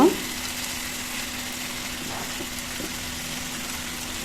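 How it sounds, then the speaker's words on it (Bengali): Boiled taro corms (kochur mukhi) fry in spice paste in a pan, making a steady, even sizzle that runs unbroken after a brief thump at the start. "আগে থেকে সিদ্ধ করা এই কচির মুখিগুলো দিয়ে দিলাম এখন এই মশলার সাথে একটু বেজে নিব"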